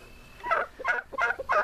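Turkeys in a backyard flock gobble close by, four rapid warbling bursts in quick succession, loud and clear over faint background noise.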